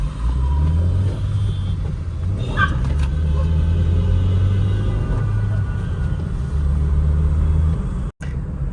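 Honda City car driving, a steady low engine and road rumble throughout with slight shifts in intensity, ending in a brief cutout near the close.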